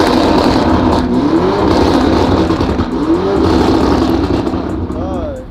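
A Lamborghini Urus runs in its loud Terra drive mode, its engine and exhaust giving a continuous, close, powerful roar that rises and falls in pitch as it revs, with a brief whine near the end.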